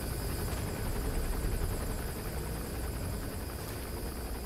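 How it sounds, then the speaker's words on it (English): A helicopter in Metal Gear Solid V gives a steady, droning rotor and engine roar, moderately loud and continuous, with no talk over it. "here comes the chopper"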